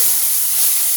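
Potato greens frying in a pan over a high flame, giving a steady, loud hiss that holds unbroken through the short moment with no voices.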